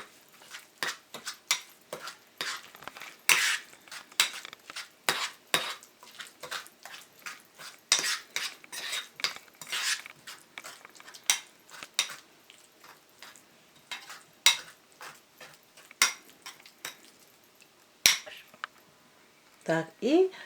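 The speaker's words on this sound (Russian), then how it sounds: "Хорошо перемешать нужно." A utensil clinks and taps repeatedly against a bowl while mixing an egg into batter, irregular sharp scraping strokes close by in an otherwise quiet room.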